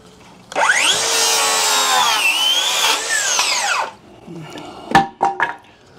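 A cordless DeWalt or Milwaukee circular saw runs through wood in one loud cut of about three seconds, its pitch sagging under load before the blade spins down, followed by a few sharp knocks.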